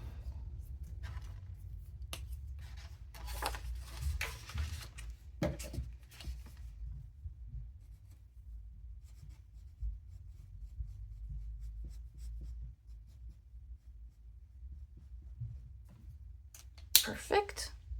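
A marker scratches and rubs as it colors in a purple savings-tracker card. The strokes come in bursts, close and soft, with quiet gaps between them and a few taps and paper rustles near the end.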